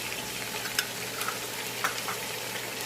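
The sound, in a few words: spices frying in oil for chicken biryani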